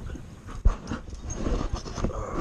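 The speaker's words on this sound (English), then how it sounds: "I'll play with the pups here for a little bit" Puppies panting and snuffling at close range during morning play, with soft breathy huffs, a sharp thump and faint whimpers, moderately quiet with no talk.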